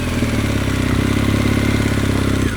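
An ADV motorcycle engine running steadily as the rider eases the clutch out to pull away, a loud, close, rhythmic mid-pitched thrum with a slight rise in pitch.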